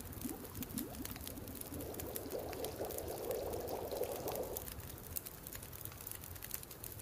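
Water boiling in a pot in the survival video game The Long Dark, a soft, close bubbling burble over a steady windy hiss that swells for a few seconds and then fades away.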